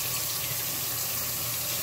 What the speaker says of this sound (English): we're just going to rinse off the fruit